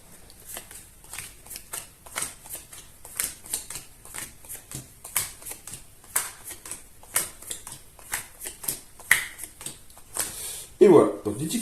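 Ten playing cards dealt to each player for the card game Formidable, a steady run of quick, close card flicks and slaps on a table, with people chatting over the dealing.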